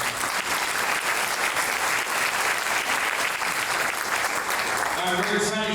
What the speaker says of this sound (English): Another round of applause for Matt.